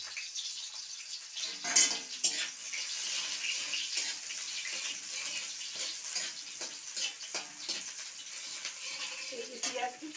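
Chopped onion frying in hot oil in a kadai while making ghugni, a steady close hiss and sizzle with occasional clinks and scrapes of stirring, no voices.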